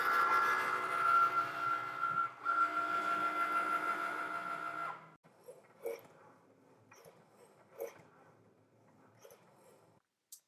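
A Cricut cutting machine works on felt for fabric flowers, giving a steady mechanical whir with a high tone for about five seconds, then a quiet stretch broken by scattered soft clicks and taps.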